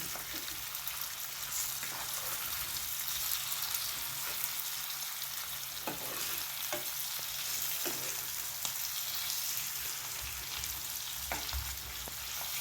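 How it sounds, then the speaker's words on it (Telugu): Boneless fish frying in oil in a pan, a steady dense sizzle throughout with occasional soft clicks of a utensil, close and continuous, no talking. "రెండో పక్క కూడా వేగనిద్దాం రెండో పక్క వేగుతుంది కదా"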